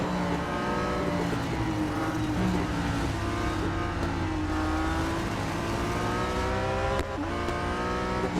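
A race car engine in the mobile game Real Racing 3 drones and revs through gear changes, its layered whine rising and falling steadily over several seconds, loud and continuous with no speech.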